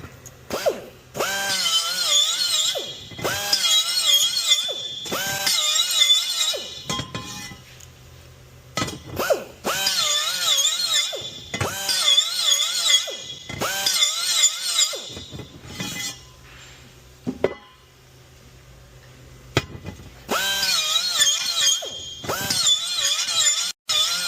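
Power tool deburring the inside of a steel tube for a Hummer H3 rear driveshaft: several loud bursts of a whining, varying-pitch motor with grinding scrape, separated by short pauses, close up and without talk.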